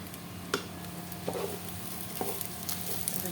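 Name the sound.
spices being stirred and fried with rice in a pan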